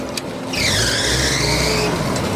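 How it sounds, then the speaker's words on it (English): Forklift braking hard, a sustained loud squeal with harmonic overtones lasting more than a second over a low engine rumble, up close and with no talking. "a guy's driving away on a forklift and then he slams on the brakes and you hear this noise"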